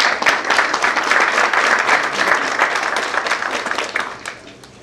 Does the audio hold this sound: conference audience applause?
yes